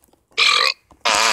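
Two loud, drawn-out burps, each lasting about a third of a second with a short pause between them and no talking over them, set during a cartoonish Super Smash Bros Ultimate adventure.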